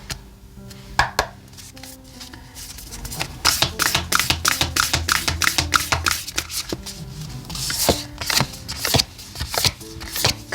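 Oracle cards are shuffled by hand for a tarot reading, a close run of quick, crisp riffling slaps in rapid rhythmic bursts with short pauses between them, no talking.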